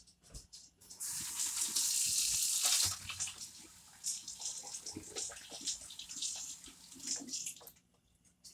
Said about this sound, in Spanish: Me voy a lavar las manos.